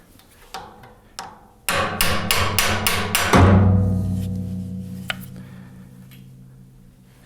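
Hammer striking a thrust bearing on a PM728 milling machine during a CNC ball screw installation: two isolated taps, then a rapid burst of about six ringing metallic blows ending in a long resonant hum, followed by a faint click.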